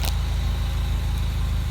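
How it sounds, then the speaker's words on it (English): A 2009 MINI Cooper S Turbo engine idles steadily with a low, even rumble throughout, recorded close to the car, with a brief faint knock near the start and no voices. "The car is definitely idling better"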